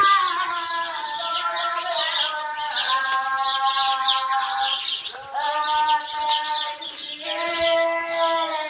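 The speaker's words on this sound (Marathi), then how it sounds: "आपण पाहू शकता पक्ष्यांचा किलबिलाट" Birds chirp and tweet at dawn near an old village temple in Vazur, their clear, repeated calls overlapping steadily and close by, with no talk over them.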